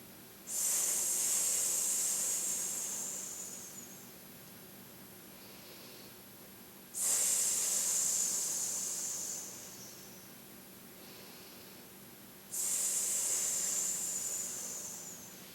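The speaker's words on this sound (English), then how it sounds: "And we're breathing in." Slow deep breaths during a standing rejuvenation exercise, hands on hips: three long, airy hisses, each starting loud and tapering into a softer, quieter exhale, repeating steadily at close range with no talk.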